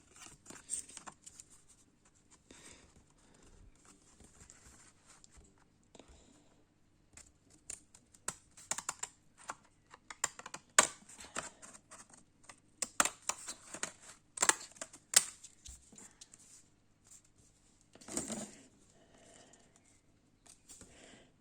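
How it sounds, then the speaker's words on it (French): Pinking scissors with small toothed blades snip paper in short, irregular bursts of crisp cuts with pauses between, close by and quiet. "on va utiliser des petits ciseaux à dents"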